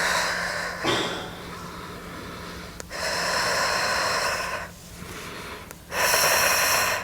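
Steady breathing in and out during a hip-mobility stretching exercise, with long rushing exhales alternating with short pauses, close and fairly loud.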